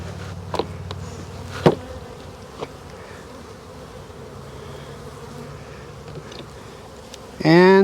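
Honey bees buzz around a hive while a package of bees is installed, a continuous low drone close to the hive, with a few sharp knocks and a brief louder burst of buzzing near the end.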